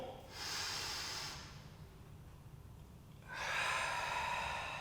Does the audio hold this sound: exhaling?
yes